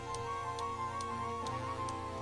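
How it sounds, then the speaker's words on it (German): Clock ticking inside a Sherlock Holmes mystery adventure game, a regular tick roughly every half second over a low, steady ambient drone, with no voices. "Es tickt."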